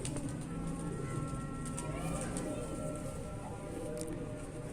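Domestic pigeons cooing at a breeder's loft, soft repeated coos over a constant hum of room noise and scattered bird calls, with no clear talk.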